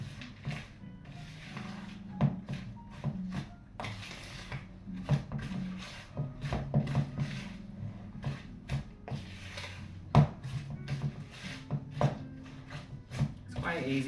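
A wooden spoon stirs chocolate into a cake batter mixture in a bowl, giving soft irregular scrapes and knocks against the bowl at close range, interspersed with occasional louder taps, while a person talks over it.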